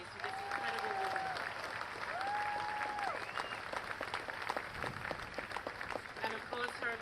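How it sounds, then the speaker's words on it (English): An audience at a beachside memorial vigil applauds steadily, with a dense, sustained clapping texture and a few whistles, and the applause thins toward the end. "Another round of applause, please, for this incredible woman."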